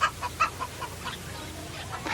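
Chickens of a single breed in a rural village, a few quick clucks close by at first, then softer scattered clucking.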